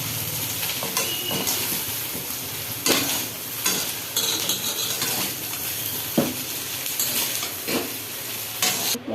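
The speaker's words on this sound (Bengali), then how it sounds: "সয়াবিন লাল লাল করে ভাজা হয়ে গেছে" Soybean chunks fry and sizzle in a pan of oil, a steady crackling hiss broken by repeated scraping stir strokes of a spatula against the pan, close and fairly loud with no voices.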